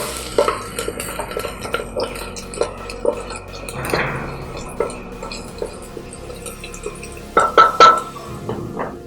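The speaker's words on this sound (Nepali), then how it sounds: "प्याज हल्का भुटिसकेपछि चाहिँ हामी लसुन हाल्यो," Onion and garlic fry in a pan while a utensil stirs and clinks against it, giving irregular scrapes and taps over a soft sizzle, with a louder clatter near the end and a voice talking faintly at times.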